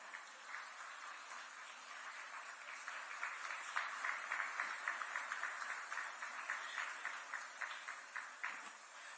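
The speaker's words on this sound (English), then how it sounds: "A round of applause, ladies and gentlemen." Steady applause from a sizable audience at an international conference on safe schools, somewhat distant and moderate in volume, continuing evenly with rhythmic clapping emerging toward the end.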